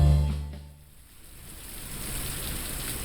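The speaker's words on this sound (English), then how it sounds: "I've always hated the rain." Rain falls steadily in a video game, a soft continuous hiss that swells after a low rumbling sound fades at the start.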